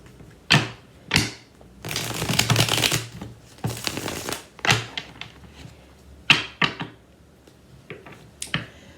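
A deck of tarot cards riffled and shuffled several times in quick bursts, crisp papery flutters separated by short pauses, close to the microphone.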